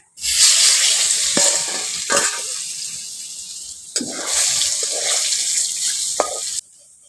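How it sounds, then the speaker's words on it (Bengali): Potatoes hit hot oil after eggs have been fried, for egg biryani, setting off a loud, close hiss and crackle that runs steadily with a few scraping stirs before stopping abruptly. "ওই তেলের মধ্যে আলুগুলো দিয়ে দিচ্ছি"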